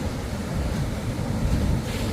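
Ocean surf on a beach inside Yala National Park, a continuous wash of breaking waves mixed with heavy wind buffeting the microphone, with no voices.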